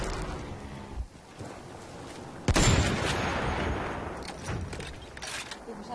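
Battlefield 1 gunfire, a loud burst of shots breaking out after a quieter stretch and rattling on with echoing blasts.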